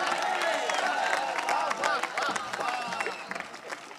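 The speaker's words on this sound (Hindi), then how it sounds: "आपकी तालियां कमजोर है मेरे भाई।" Thin, scattered audience applause at a Hindi comic poetry show, a soft patter of claps and crowd murmur that stays light and uneven before thinning out near the end.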